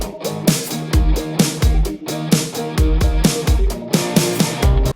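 High-gain distorted guitar stabs from an Amplitude 5 Tiny Terror preset, double tracked in a pop rock song, hit in punchy rhythmic bursts over a driving drum beat.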